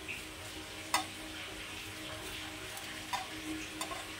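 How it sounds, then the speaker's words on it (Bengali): Pitha cakes frying in a pan give a continuous soft sizzle with a few sharp ticks and clinks of utensils against the pan, heard close and without speech. "তো এইভাবে করেই সবগুলো ভেজে নেবো আগে"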